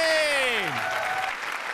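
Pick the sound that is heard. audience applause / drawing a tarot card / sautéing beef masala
audience applause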